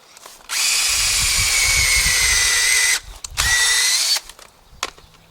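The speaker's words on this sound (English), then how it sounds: "Now all I have to do is drill." A power drill whirs loudly for about two and a half seconds while drilling a pocket hole in a board, stops briefly, then runs again for another second before winding down.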